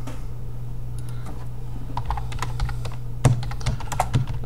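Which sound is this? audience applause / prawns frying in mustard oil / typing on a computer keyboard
typing on a computer keyboard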